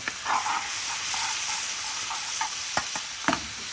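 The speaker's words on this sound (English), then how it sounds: "I'm adding 3 bay leaf. This is Bangladeshi tezpata." Large Bangladeshi bay leaves (tezpata) sizzle in hot oil over a high gas flame, a steady frying hiss with a few brief sharp crackles and spatters near the end.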